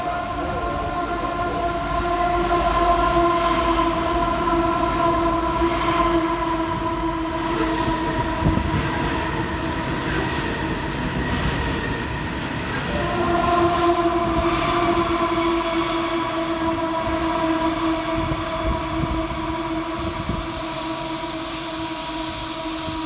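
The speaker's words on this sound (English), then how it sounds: "a coal train is seen passing through" A coal train rolls through in New South Wales, a steady rumble of wagons with clanking and squealing wheels, swelling and easing over the whole pass without any talk.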